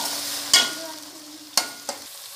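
Tomatoes going into a hot pan for daal mash, a steady low sizzle broken by three sharp clanks or splats spaced unevenly, close and fairly loud, with no voices.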